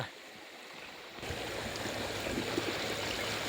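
Running water for washing a bike starts suddenly after a quiet moment, then flows as a steady, fairly close rushing hiss until the end.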